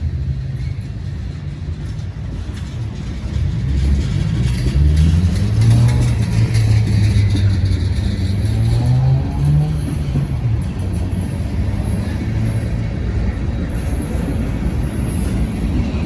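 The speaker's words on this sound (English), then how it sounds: "This train's easing down the hill." A heavy freight train rumbles steadily nearby, easing down a steep, curvy grade out of the Ohio River Valley, with a low groaning tone that rises and falls and faint wheel squeals over a constant roar.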